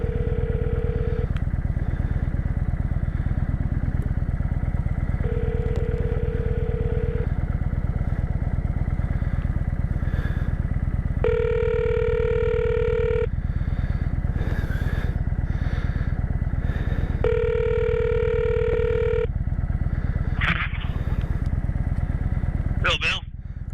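A motorcycle ridden with a helmet-mounted phone setup gives a steady engine and road rumble throughout, while repeated electronic ringing tones and dialing beeps from the call sound over it.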